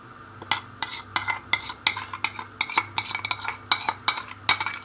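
Beef pieces being stirred and mixed by hand with ginger-garlic paste and warm spices for Old Delhi-style pasanday, giving a steady run of wet, squelching scrapes and light utensil clinks, close and fairly loud with no talk.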